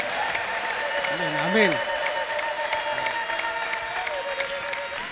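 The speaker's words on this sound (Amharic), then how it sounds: "ለእግዚአብሔር ክብር እንደገና ቆማቹ እልልታ ጭብጨባ" Church congregation applauding, a steady wash of crowd clapping with a high, wavering ululation rising briefly through it, while someone says a single word over the top.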